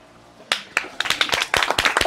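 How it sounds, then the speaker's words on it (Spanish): Wedding guests clap, starting with a few scattered claps and quickly building into brisk, dense applause from a nearby crowd. "¡Un aplauso fuerte!"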